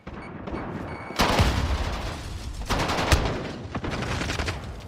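Rapid bursts of automatic gunfire and explosive booms fill a 2v2 gunfight match in a competitive esports video game, loud and dense throughout, with sharp peaks near the middle and later on.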